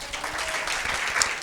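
Congregation applause at a church prayer service: a dense, steady wash of clapping from many hands that lasts throughout, moderately loud and without a clear voice on top.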